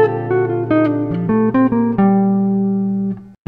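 A jazz guitar lick over rhythm changes, a run of clean single notes that rises and steps through changes before settling on a long held tone, close and alone with no talking.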